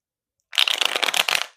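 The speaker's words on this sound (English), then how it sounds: "Let's get one more shuffle." Tarot cards shuffled by hand during a love reading, a rapid run of crisp riffling flutters that starts after a short silence and lasts about a second, close and clear with no talking.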